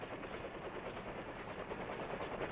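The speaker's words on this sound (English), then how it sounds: "air rescue helicopters are at the scene searching the area" A Vietnam-era air rescue helicopter searching an area, its steady rotor and engine roar carrying as a continuous, even wash of noise at moderate distance, with no voices.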